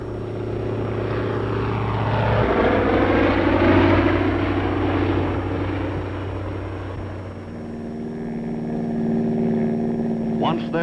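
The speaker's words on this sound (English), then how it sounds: "American Cub planes again proved invaluable in spotting enemy strongpoints." American Cub spotter planes in flight, a steady propeller-engine drone that swells and fades across the stretch, heard under wartime newsreel narration with a brief burst of other noise near the end.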